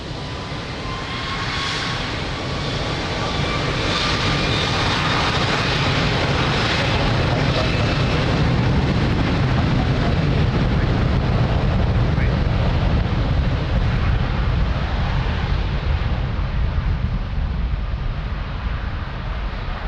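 A fixed-wing airliner takes off from runway 02 at Lisbon Airport, a loud, sustained jet engine roar that builds and holds with wind rumble over the microphone, steady throughout.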